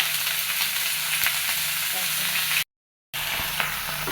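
Potatoes fry in a pan with a steady, close sizzle and faint stirring, broken by a brief moment of silence before the sizzling resumes.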